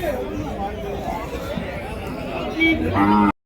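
Cattle at a busy livestock market, with occasional low moos and animal sounds mixed into steady crowd chatter and someone talking close by.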